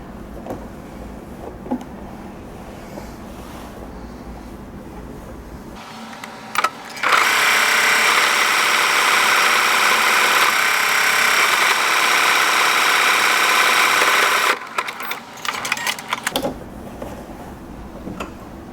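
A sewing machine stitches buttonholes on a shawl collar garment in one steady, loud run of about eight seconds, set between quieter stretches of handling noise.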